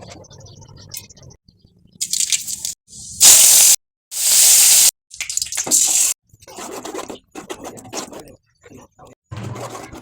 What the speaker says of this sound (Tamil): இப்போ இதை நம்ம தாளிச்சிக்கலாம்